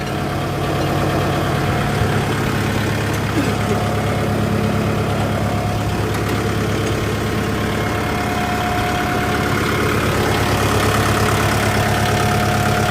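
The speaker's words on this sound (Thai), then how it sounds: "รถไถคันใหม่ครับ" A Kubota MU57 tractor engine idles throughout with a steady, low rumbling drone and a faint knocking rhythm, loud and close, with no voices.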